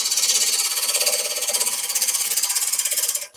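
A half-inch bowl gouge makes light drag cuts across a spinning wooden cheese platter on a lathe, producing a close, steady hissing scrape with a fast rhythmic flutter that fades away at the end.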